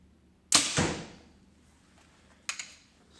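An arrow shot from an archery bow during a live practice session, a sharp loud release and thwack followed by a fainter second impact about two seconds later, with no talk.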